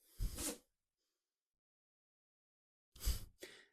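A single sharp sneeze, close and fairly loud, followed after a pause by a second short burst of breathy noise.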